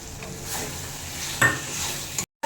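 Chana masala with curd, sugar and masala sautéed in a pan, a soft continuous sizzle with a few spoon scrapes and a brief clatter before a short silence at the end.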